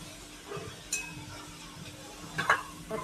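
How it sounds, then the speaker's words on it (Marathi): Grated sweet potato frying in hot oil for a crispy fasting-style chivda, a soft continuous sizzle close by with occasional stirring scrapes and light clinks of a utensil against the pan. "असं गुलाबी रंग होईपर्यंत थोडंसं आपण त्याला फ्राय करून घेऊ"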